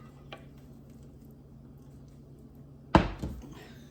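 Creamy sauce for a cordon bleu casserole lands in a big mixing bowl as a single soft, wet plop, close and fairly loud, after a quiet stretch.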